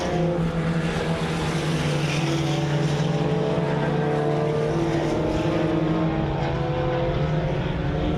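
IMCA Sport Compact race cars lapping an oval speedway during a heat race, their engines a steady, loud droning roar that holds throughout with no pauses.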